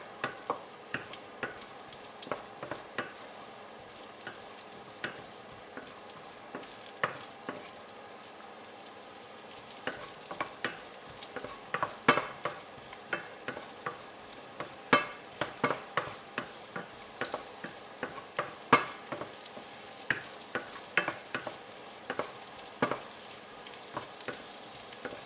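Rice, chorizo and red peppers frying in a pan over high heat, with a steady loud sizzle broken by frequent crackles and spoon scrapes as the food is stirred, without talk.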